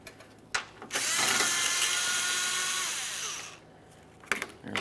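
A power tool whirs for about three seconds, removing a 7mm-headed mounting bolt from a plastic panel on a 2017-2024 GMC Acadia. Short ratcheting bursts come before and after the steady, close, loud run.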